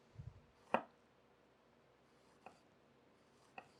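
A knife chops on a cutting board while jalapeno and radish are prepared for shrimp aguachile, a few sparse, faint, crisp strikes spaced apart with quiet pauses between them.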